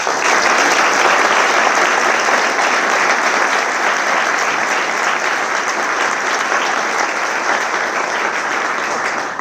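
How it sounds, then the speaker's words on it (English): Sustained, dense applause from a large audience at a university graduation awards ceremony, loud and steady throughout with no break, gradually easing slightly toward the end. "If we can give them all a round of applause."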